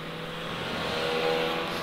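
A 1973 Ford Mustang Mach 1 engine drones steadily on the Symmons Plains race track, a continuous mid-pitched roar that swells slightly and holds through the short stretch with no talking.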